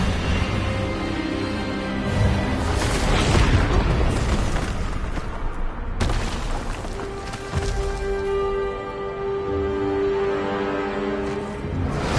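Expelliarmus spell blast cast during a wizard duel in Hogwarts Legacy, a loud booming burst of energy with rumbling swells that builds, cuts sharply and then rings on as a sustained tonal hum.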